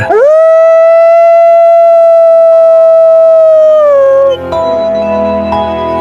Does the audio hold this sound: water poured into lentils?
no